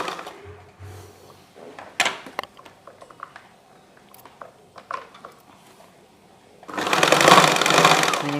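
Sewing machine stitching a garment seam in a tailoring session: soft clicks and handling at first, then a loud, close burst of rapid mechanical whirring near the end.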